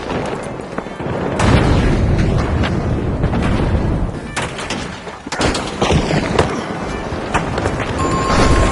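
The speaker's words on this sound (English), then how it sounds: "Tossing a frag." In the video game The Finals, a thrown frag grenade goes off amid loud, dense arena combat. Heavy booms and crackling blasts sit on top of constant rumbling noise.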